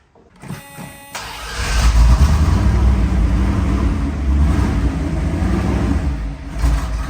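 A Jensen car, run for the first time in 25 years, has its engine rev up to a loud, rough, close roar as it first moves, holding steady for several seconds before easing slightly at the end.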